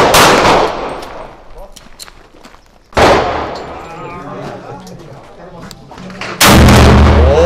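Three loud 12-gauge shotgun blasts at a shooting range, spaced about three seconds apart, each with a sharp crack and echoing decay, with people talking in the background.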